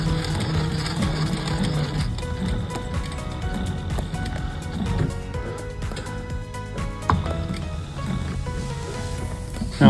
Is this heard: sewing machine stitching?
yes